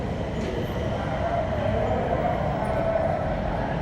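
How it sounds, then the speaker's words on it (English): A SkyTrain metro train on the airport line at a station, a loud steady rumble of rolling cars with a faint high wheel squeal running throughout. "This is either the subway or the SkyTrain."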